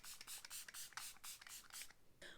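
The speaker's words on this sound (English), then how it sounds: "Now I'm going to finish it off with some setting spray. I'm using the Pixi Glow Mist." Pixi Glow Mist setting spray misted in a run of quick pumps, each a short airy hiss, close and fairly quiet with no talking.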